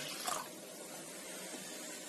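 Water poured into a pot of banana stem rasam, a steady, soft rushing hiss lasting a couple of seconds with no voices.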